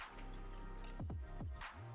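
Nutramino Heat melon and apple drink poured from its container, giving a few close, faint gurgling drips and glugs of liquid in a quiet room.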